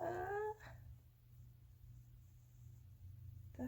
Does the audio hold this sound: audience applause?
no